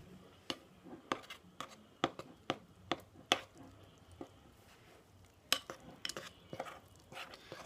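Flour and water being stirred together into a fluffy slime dough, heard as a series of sharp, close spoon or utensil clicks and scrapes against a bowl in an irregular rhythm, with no talking.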